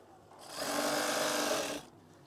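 An electric sewing machine stitches a fold of curtain fabric in one steady whirring run of under two seconds, starting and stopping cleanly, close by, with faint background noise.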